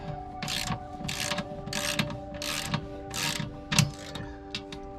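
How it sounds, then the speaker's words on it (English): A wrench tightening the bolt on a travel trailer stabilizer jack, giving repeated ratcheting clicks in short regular bursts, close up over a steady mechanical hum. "Now I'm going to use the adjustable wrench to hold it over here while we tighten it up."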